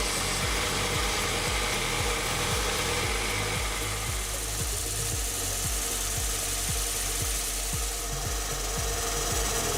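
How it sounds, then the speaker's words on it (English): Steel file rasping back and forth across hardened high carbon steel in a workshop, a steady rhythm of gritty scraping strokes, close and continuous throughout. "A file confirms that hardening has occurred."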